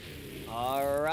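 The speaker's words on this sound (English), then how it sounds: "next up we have Carson Williams driving Monster Mutt Rottweiler" Monster Mutt Rottweiler, a monster truck driven by Carson Williams, revs up in an indoor arena, its engine tone rising sharply into a loud, steady roar that fills the short burst.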